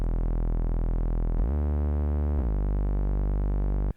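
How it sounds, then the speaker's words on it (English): A loud, sustained synthesizer saw wave from a custom-drawn VST plugin wavetable drones steadily, its buzzy tone shifting briefly mid-note before settling and cutting off at the end. "the first table is just a saw wave that I've gone in and drawn a bit onto"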